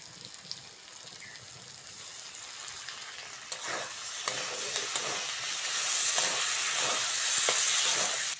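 Cumin paste sizzles and spits in hot oil for a Bengali fish curry, a steady close frying hiss with scattered pops and stirring scrapes that grow louder in the second half.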